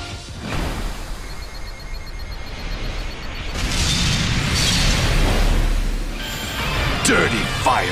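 Explosions from a Dragon Ball Legends video game attack: rumbling booms and bursts swell through the middle, mixed with game sound effects and voices.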